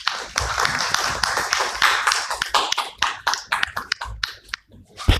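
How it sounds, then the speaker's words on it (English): An audience at a public transport research symposium claps for the presenters, a dense burst of close hand claps that thins into scattered individual claps toward the end. "Let's have a big round of applause for all of them."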